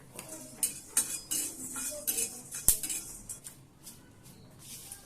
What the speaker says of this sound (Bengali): আমি এর মধ্যে কটা গোলমরিচ একটু শুকনো খোলায় ভেজে নিচ্ছি